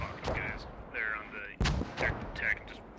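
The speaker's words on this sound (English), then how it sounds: "So mortars are just laying in right into him." Mortar shells land in a multiplayer video game match: several sharp, loud booming impacts in quick succession, with a commentator talking over the firefight.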